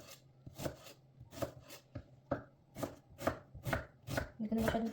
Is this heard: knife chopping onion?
yes